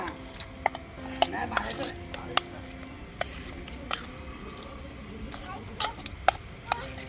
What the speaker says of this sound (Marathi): बटर आणि चाट मसाला आपण मिक्स करतोय